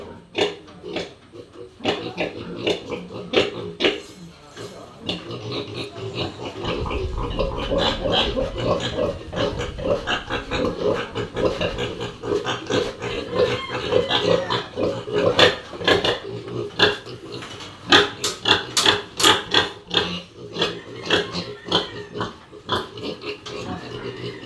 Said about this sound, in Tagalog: Kinikilala po nung inahin namin yung mga biik.